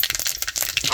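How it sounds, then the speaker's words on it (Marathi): Mustard seeds crackle and pop in hot oil in a village-style kitchen, a quick burst of sharp, dense little snaps packed close together, loud and near with no talking. "आता लेकी बाई हो तेल तापलंय, मोहरी सोडून घेते."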